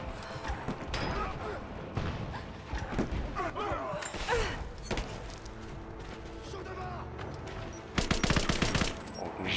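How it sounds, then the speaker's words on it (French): Rapid gunfire bursts and crashes in the video game Rise of the Tomb Raider, mixed with scattered impacts and a loud volley near the end, while someone talks excitedly over the action. "je tire à l'arrache"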